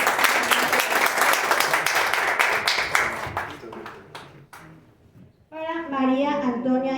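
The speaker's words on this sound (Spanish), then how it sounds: "Un aplauso, por favor, para Gerardo Rodríguez Castañeda" Close, dense applause from a book presentation audience fills the first four seconds, tapering into a few separate claps, then a voice starts speaking.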